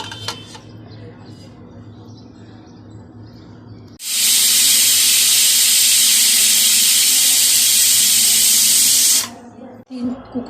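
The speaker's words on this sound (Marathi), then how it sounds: "कुकरच्या 3 शिट्या झाल्या आहेत" A pressure cooker holding dal and rice releases a loud, sustained whistle and rush of steam lasting about five seconds, preceded and followed by quieter kitchen sounds and faint talk.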